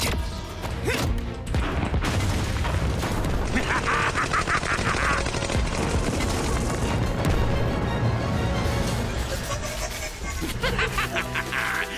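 Rapid cartoon gunfire rattles in dense bursts over a continuous bed of dramatic music and effects in an animated action series, loud and busy throughout, with brief voices mixed in.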